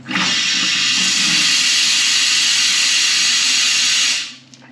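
Nitrogen blown through a cut-off hose into a condensate line on a four-drawer unit, giving a loud, steady rushing hiss that starts abruptly, holds for about four seconds, then cuts off.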